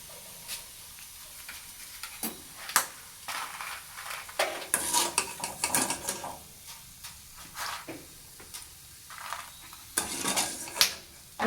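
Peanuts frying in hot oil in a pan, a soft sizzle broken by scraping stirs and clinks of a spatula against the metal, close and moderately loud, with no talk.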